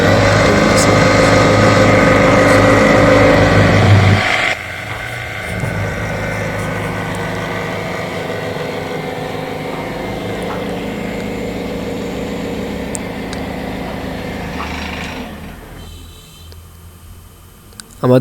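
A rewound 48-volt e-bike motor spins on a charger, a loud steady electric whine and hum that drops in level partway through, then fades toward the end, with a voice speaking over it.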